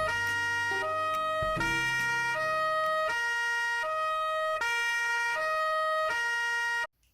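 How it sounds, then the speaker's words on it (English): A toy ambulance siren plays loud electronic tones that step up and down in a repeating pattern without pause, then cut off abruptly. "the driver turns on the siren, which usually sounds like this"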